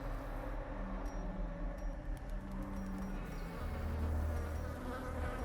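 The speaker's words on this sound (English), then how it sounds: "The maddening whine of multitudinous wings abates." Swarming insect wings from the video game Darkest Dungeon, a steady low buzzing drone that hums continuously and swells slightly toward the end, with no voices over it.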